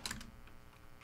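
Someone types on a computer keyboard while writing code: a quick burst of close keystrokes, a pause, then one more sharp tap, with no talking.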